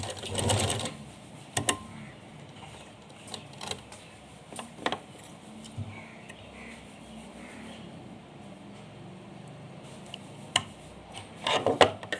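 A sewing machine stitches the corner of a small Laddu Gopal doll dress in short, quiet bursts of rapid mechanical whirring separated by pauses and faint handling clicks.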